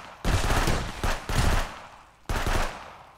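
Shotgun blasts in the border-control game Contraband Police, three heavy booming shots at a steady interval, each with a long rumbling decay. They are loud, close and not covered by talk.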